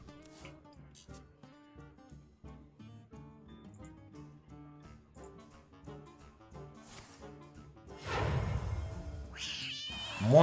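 A black cat card in the video game Hearthstone lets out a loud, drawn-out meow near the end, rising sharply above the quiet game music that fills the rest.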